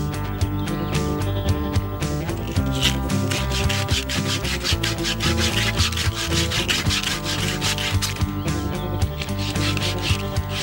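Copper line being sanded by hand while a 1995 Goodman heat pump is replaced: steady, rhythmic abrasive rubbing strokes, close and loud, without any talk.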